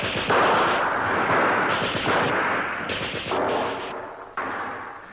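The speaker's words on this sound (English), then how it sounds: "The Brens and rifles searched out the advancing enemy." Bren light machine guns and rifles fire at an advancing enemy, delivering heavy, booming bursts that come in several long, overlapping waves with short dips between, loud and close, without speech.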